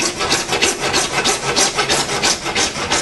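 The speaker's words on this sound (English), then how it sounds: "I'll use the miter box in the saw to cut it out" Hand saw cutting through wood in a miter box, a steady back-and-forth rasping stroke repeated rhythmically and loud, close up with no voices.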